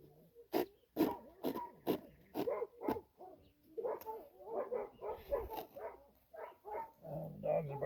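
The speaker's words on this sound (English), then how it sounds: "The dogs are barking at something." Several dogs bark close by in a rapid burst of sharp barks, then settle into a looser run of mixed barks and yips with a low whine near the end.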